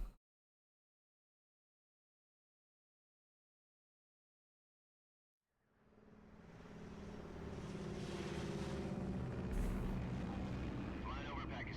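Jet aircraft cruising at altitude over Pakistan in the Metal Gear Solid Delta: Snake Eater trailer, a steady broad roar that swells in after several seconds of silence and holds loud to the end, with a voice murmuring beneath.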